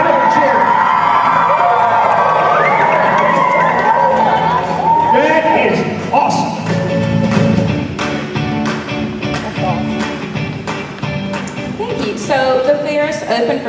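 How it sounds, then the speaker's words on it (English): Crowd at a general membership meeting standing and cheering, with loud whoops and shouts over continuous crowd noise, voices mixed in throughout. "Stand up and cheer if you make money today."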